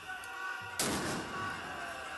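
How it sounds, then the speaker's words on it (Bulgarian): Firecracker bombs thrown at a police cordon beside the National Assembly during a street protest go off in a single loud, sharp blast that booms and rings out over the murmur of the crowd. "Към полицейския кордон до Народното събрание полетяха яйца и бомбички."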